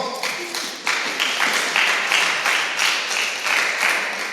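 A church trivia night audience applauds on request, giving loud, steady clapping from many hands in a room. It swells in waves across the whole stretch with no talk over it.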